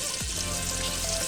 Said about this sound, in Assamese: তেলখিনি গৰম হোৱাত মই পনীৰখিনি দি দিছোঁ।